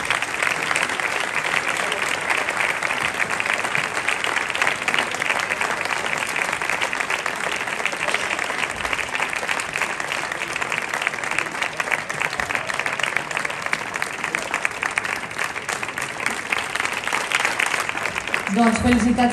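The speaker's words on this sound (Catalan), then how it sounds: "un fort aplaudiment per als dos directors." Loud, sustained applause from a concert audience honouring the two directors of the bands on stage, steady dense clapping throughout with a few cheers mixed in.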